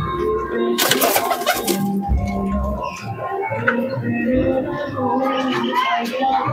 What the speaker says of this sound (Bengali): খুবই সুন্দর কোয়ালিটির কবুতর আছে